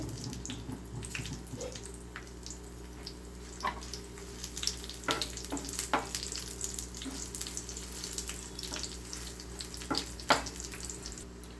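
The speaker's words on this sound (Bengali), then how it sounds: "আগে আমি শুকনো মরিচগুলো একদম অল্প আছে সুন্দর করে এমনভাবে ভেজে নেবো যেন বেশি পুড়ে না যায়" Dried red chilies fry slowly over low heat in a pan for a shidol bharta, giving a faint, steady sizzle dotted with soft crackles and pops, close and quiet with no talking.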